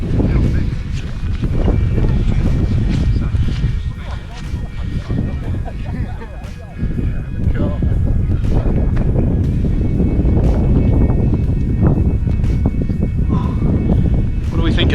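Strong gusts of wind batter the microphone on an exposed mountain trail near Moel Eilio, a loud, continuous roar that swells and dips slightly throughout, with no clear voices over it.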